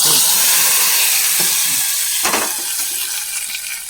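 Mustard seeds tempering in hot oil and poured into a village-style curry, a loud, continuous hiss and sizzle with a few sharper crackling bursts, fading slightly toward the end.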